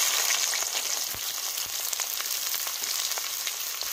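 Chopped onion and whole garam masala hit hot oil left over from frying potatoes and give a continuous, close crackling sizzle with scattered pops, steady throughout and with no voices.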